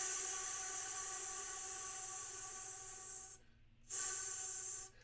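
A flute player produces a sizzling 'TS' hiss with closed teeth, a steady hi-hat-like wash of noise that cuts off briefly, resumes, then stops, close and fairly quiet.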